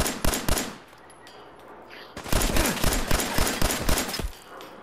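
Heavy weapon in the video game Fallout 4 firing in rapid bursts of loud gunfire, a short volley, a brief pause, then a longer sustained string of shots.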